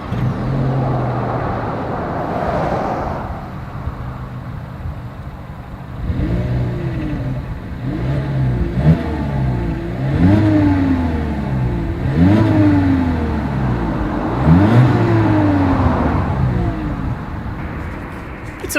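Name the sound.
Volkswagen Jetta exhaust sound while revving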